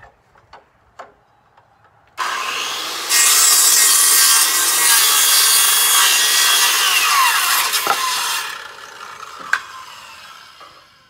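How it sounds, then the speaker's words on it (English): Wooden boat trailer bunk boards being cut to nine feet with a power saw, a loud, close, continuous whining cut lasting several seconds after a few light taps, then trailing off into small knocks. "So now I'm going to cut them to 9 foot."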